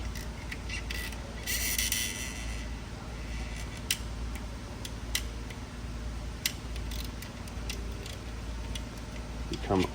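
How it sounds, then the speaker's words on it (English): Small torque wrench clicking as it tightens valve cover and fuel injector bolts on a Duramax LBZ diesel engine, a string of sharp close ticks spaced irregularly over faint background hiss. "So we got the little clicky wrench here"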